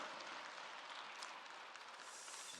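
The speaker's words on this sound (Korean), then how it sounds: "하나님께 영광 박수 드리겠습니다." Applause from a church congregation offering praise to God, a faint, distant wash of clapping sustained evenly throughout.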